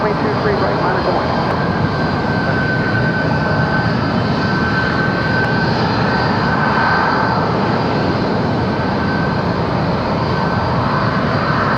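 A JetBlue airliner lands at Raleigh-Durham airport, its engines producing a steady, loud roar that holds throughout, with a faint high whine running over the broadband rumble.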